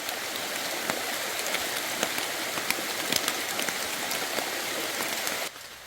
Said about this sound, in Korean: 빗방울이 떨어집니다. 귀를 기울여 들어봅니다. 터리풀 위로 떨어지는 소리가 감미롭습니다.